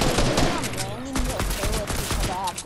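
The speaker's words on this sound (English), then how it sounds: "somebody's shooting at us" Dense bursts of automatic gunfire in the video game Fortnite, loud and continuous throughout, layered under excited talking from players.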